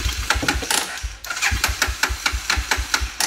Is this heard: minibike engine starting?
yes